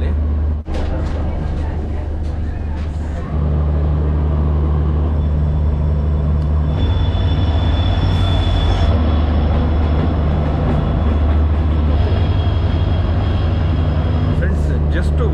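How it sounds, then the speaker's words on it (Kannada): A train climbing the ghat section near Donigal, hauled by one locomotive at the front and one at the rear, rumbles steadily with a low continuous drone and faint high squeals over about fifteen seconds, running loud and close throughout. "ಈಗ ನಮ್ಮ ಟ್ರೈನು ಮತ್ತೆ ಸ್ಟಾರ್ಟ್ ಆಗಿದೆ."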